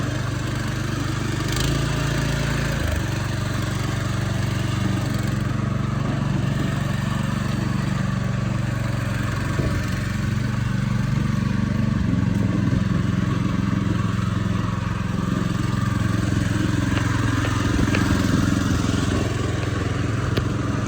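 A Hecht 2650 dumper's small engine runs steadily as the machine drives off, a loud, rough, continuous putter with a brief shift in tone near the start, heard close without any talk.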